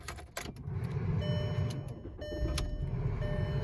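A high-mileage 2004 Volkswagen Jetta's 2.0-liter four-cylinder engine cranks and catches after a short clunk and key rattle, then settles into a steady low idle close by.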